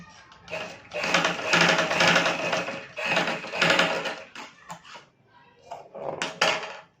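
A sewing machine stitches fabric for a ruffled baby frock, running in loud bursts of steady whirring with short pauses and a clack between runs, close up.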